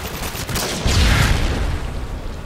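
Gunfire in Modern Warfare 2 during an online match, loud and dense, with a heavier boom-like burst near the middle amid a continuous rattle of shots.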